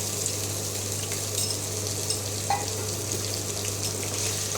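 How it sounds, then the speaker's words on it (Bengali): Steady, fairly loud frying sizzle of chopped onion in a pan, continuous with a constant low hum underneath and no talking. "একটা পেঁয়াজ কুচিয়ে রেখেছি এটা দিয়ে দিলাম এটা একটু ভাজা ভাজা হবে"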